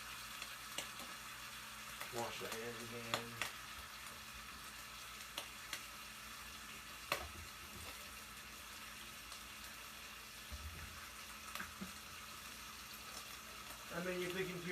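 Bacon sizzles and crackles steadily in a pan, with occasional clatters and a brief spoken remark in the background.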